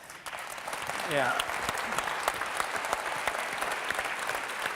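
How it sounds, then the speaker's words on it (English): Sustained audience applause at a panel discussion session opening, a steady wash of clapping from the crowd lasting throughout, with a voice speaking briefly over it. "Save your applause."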